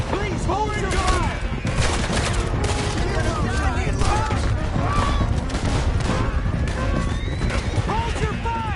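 Rapid gunfire from a Red Dead Redemption 2 shootout, a dense continuous fusillade with voices shouting under and over the shots.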